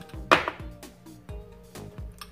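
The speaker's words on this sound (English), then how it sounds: "I'm just gonna keep on stirring it, really incorporating it like that" A spoon stirs keto ice cream mixture in a bowl, giving a quick run of rhythmic knocks and scrapes, close and fairly crisp, with no speech.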